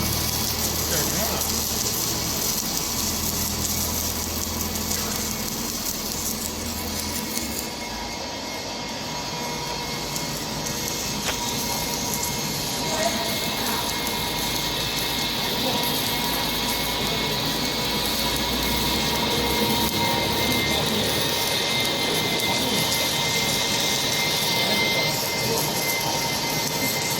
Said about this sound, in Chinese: 坐上飞机了。